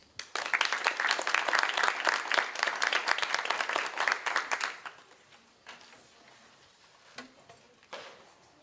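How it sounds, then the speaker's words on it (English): At a school board meeting, a room of families gives one more round of applause for a school concert, brisk crowded clapping for about five seconds that thins to a few scattered claps and knocks. "One more round of applause"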